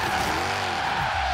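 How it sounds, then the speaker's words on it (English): Race car skidding and spinning out in Forza Horizon 3, a steady loud engine drone with tire squeal sweeping up and down through the short burst, no voices. "you don't, like what I've previously done, you don't spin out"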